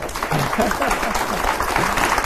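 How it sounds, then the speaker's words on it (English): A studio audience at a televised Nigerian town hall debate on drug use applauds steadily, a dense wash of clapping filling the whole stretch with voices mixed underneath. "I think we should clap for us."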